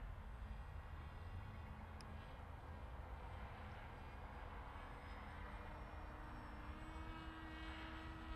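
A Volantex Ranger 1600 RC plane flies on a windy day, its electric motor and propeller making a faint, steady, distant drone under wind noise, with no talking.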